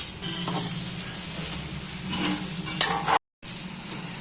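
Egg fried rice being stir-fried in a pan: a steady sizzle with scraping and stirring, continuous and close, with one very brief cut to silence near the end.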